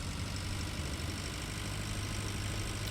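A 75-horsepower tractor idling in the Pure Farming 2018 video game, a steady low engine drone held evenly throughout with no talk.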